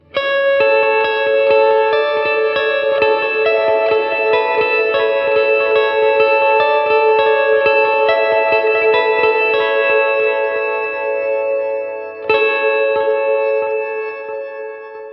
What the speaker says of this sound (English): So it has this shimmery, weird, ambient sound as well.